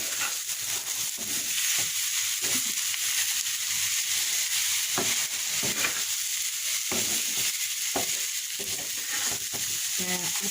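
Grass pea (khesari) greens being stir-fried and tossed to dry out in a pan, a steady sizzle with repeated scraping strokes of the spatula at irregular intervals, close and continuous, without speech.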